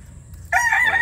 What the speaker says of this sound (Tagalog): Ang gwapo manok.